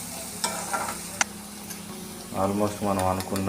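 Sliced onions with turmeric cook in hot oil, a soft, steady sizzle with a few sharp utensil clicks, while someone talks over it for much of the time.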